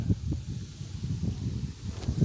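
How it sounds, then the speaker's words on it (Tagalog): Strong wind outdoors at a tilapia and catfish fishing spot buffets the microphone with a continuous, uneven low rumble that swells and dips throughout. "Lakas ng hangin guys."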